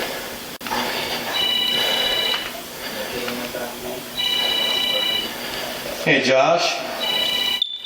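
A mobile phone rings during a tense police standoff, its electronic ringtone repeating in regular bursts over background noise while people talk.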